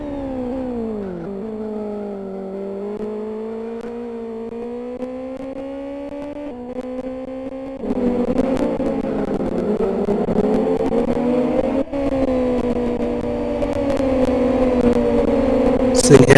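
Race cars in a MiniFBM 2012 Kent AutoPrix round driving on track, a continuous loud engine whine rising and falling in pitch as they accelerate, growing fuller partway through, with a commentator talking over it.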